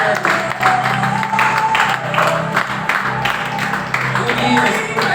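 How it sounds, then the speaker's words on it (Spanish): Church congregation applauding during a worship service, a sustained wash of clapping mixed with voices and background music, loud and steady throughout. "Vamos, elévale una ofrenda de aplausos al Eterno."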